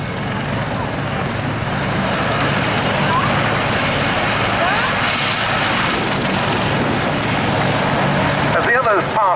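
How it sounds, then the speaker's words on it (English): Aerobatic propeller aircraft with a Renault engine performing classic aerobatics at the Duxford summer air show, heard as a loud, steady engine roar that fills the whole stretch, with crowd and commentary noise mixed underneath. "here's Richard Ward again, showing us some real classic aerobatics in his Renault engine stop"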